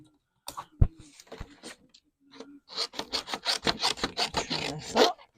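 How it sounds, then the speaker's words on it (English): Blue Scotch tape being pulled and stuck down during a card-making craft with gilding flakes and a die, a few scattered taps and crinkles followed by a rapid run of rasping tearing and rubbing strokes. "We need some blue Scotch tape. Just stick this down."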